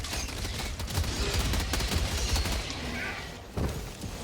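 A heavy machine gun fires in the Helldivers 2 video game, sustained dense bursts of booming automatic gunfire with a brief gap near the end before shooting resumes.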